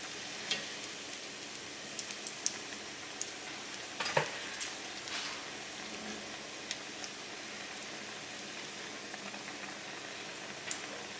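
A Korean corn dog dropped into hot oil in a skillet gives a faint, steady crackling sizzle with a few sharper pops and bursts, quiet and continuous throughout, with no one speaking.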